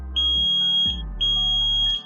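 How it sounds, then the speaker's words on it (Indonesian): An Arduino UNO touchless doorbell with an ultrasonic sensor sets off its buzzer, giving two steady high-pitched electronic beeps, each close to a second long, over a low steady hum and background tones. "maka lampu akan menyala dan buzzer akan berbunyi"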